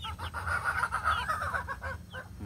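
Several young pullets cluck and chatter in quick, overlapping bursts close by, a busy uneven rhythm of soft hen calls with no talk.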